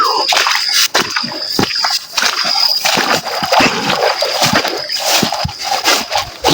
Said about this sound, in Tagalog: Maraming sumusobrang tubig.